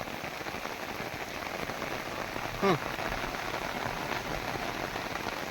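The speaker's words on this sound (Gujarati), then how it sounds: "આ વરસાદ એક ધારો વરહે" Steady, dense rain pours down continuously, a broad hiss of drops hitting surfaces, with a brief faint voice-like sound partway through.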